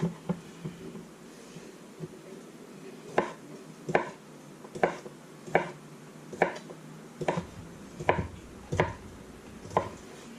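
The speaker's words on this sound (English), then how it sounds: "take my Cajun style andouille. I'm going to cut it up in quarters." Cajun-style andouille sausage is cut into quarters with a knife on a cutting board: about ten sharp, close thuds at an uneven, unhurried pace, with quiet kitchen handling between the strikes.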